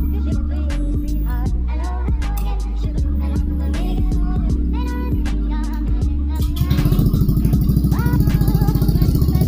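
A Honda Scoopy scooter engine idles while warming up, with a close, steady, low putter and some clatter. The running note shifts and roughens near the end.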